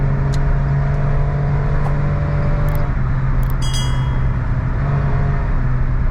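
A Suzuki Wagon R kei car accelerating on a highway, its small engine droning loudly and steadily with a tonal hum that shifts pitch midway, a few faint clinks above the continuous road noise.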